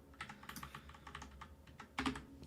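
Fast typing on a computer keyboard, with a close, quiet patter of key clicks and a slightly heavier cluster of strikes near the end.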